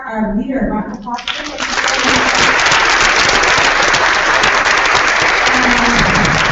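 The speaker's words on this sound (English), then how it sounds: "Again, please let's give our leader a round of applause." An audience at a leadership retreat breaks into a dense, sustained round of applause just after a speaker's voice, the clapping loud and close and continuing steadily to the end.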